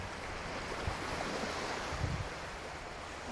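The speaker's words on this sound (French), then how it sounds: "Laissez-vous apaiser par le bruit des vagues." Ocean waves wash onto a beach in a steady, soft surf roar with a breezy hiss, and low swells rise faintly underneath.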